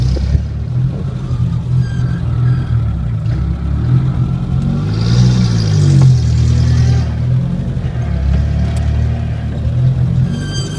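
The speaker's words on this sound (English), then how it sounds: "It's idling now. Idle's a little erratic." A 1980 Chevy LUV engine idles unevenly after a carburetor adjustment, a loud, close low rumble that surges and dips irregularly, rising briefly mid-way.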